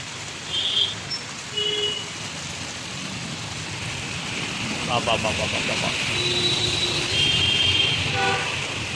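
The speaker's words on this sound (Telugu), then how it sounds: "భారీ వర్షం అంటే భారీ వర్షం" Heavy rain and a wind storm sweep over Saptagiri Circle in Anantapur, making a continuous dense hiss that builds slightly over time. Faint tonal sounds like horns from nearby traffic cut through it in places.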